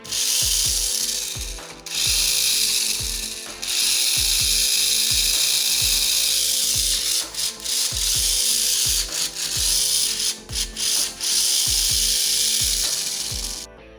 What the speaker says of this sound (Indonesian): walaupun suaranya kasar, tapi ini transmisinya cukup bagus